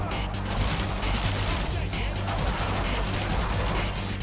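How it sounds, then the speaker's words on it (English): Automatic rifle fire from the video game Killing Floor 2 rattles in a dense, continuous loud burst, with rapid overlapping shots filling the whole stretch. "he relies solely on automatic rifles to do his dirty work"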